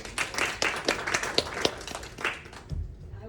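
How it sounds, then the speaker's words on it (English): Small audience at a public speaking club session gives a round of applause, a thin scattering of distinct claps from a handful of people, uneven and close, fading out near the end as a low bump follows. "Round of applause."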